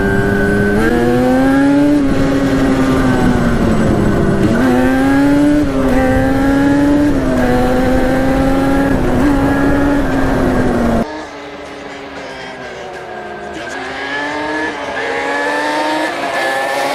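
Loud, close revving of a Yamaha Banshee ATV two-stroke engine, apparently running lean, its pitch rising and falling through repeated throttle pulls, then dropping to a lower, rougher idle-like drone before climbing again.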